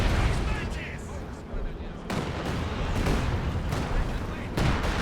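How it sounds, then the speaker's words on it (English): Sector artillery barrage in a competitive multiplayer match, sustained dense rumbling blasts and cracks layered over one another, with a sharp renewed burst midway and continuous heavy booming throughout. "And it's gonna be sector artillery."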